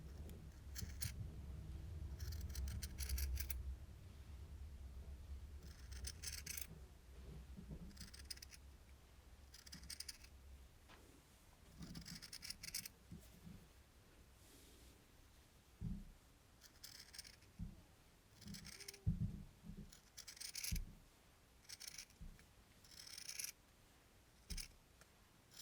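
Scissors cutting T-shirt fabric in a straight line, close and fairly quiet, with repeated crisp snipping strokes in irregular bursts and soft handling rustles between cuts.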